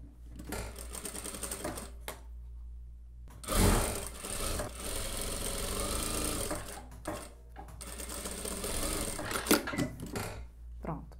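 Sewing machine running in bursts while stitching the back dart of a denim dress, whirring close and loud with brief pauses between runs and light handling noises in the gaps.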